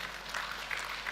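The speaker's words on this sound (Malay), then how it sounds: "Tepuk tangan dulu tuan dan puan." A seminar audience giving applause, a brief soft patter of clapping that sounds somewhat distant and lasts about a second.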